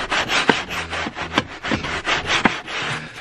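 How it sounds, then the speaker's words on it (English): Vigorous scrubbing inside a very dirty minivan during interior detailing: quick back-and-forth rubbing strokes, close and fairly loud, repeating in an uneven rhythm with no talking. "once you're done scrubbing"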